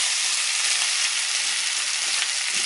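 Onions, ginger and garlic frying in a pan for a Ghanaian meat pie filling, a steady loud hiss and sizzle that holds unbroken from start to finish, close up with no talking.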